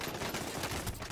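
A brief, rough burst of gunfire in the video game Call of Duty Warzone, with rapid overlapping shots that are fairly loud.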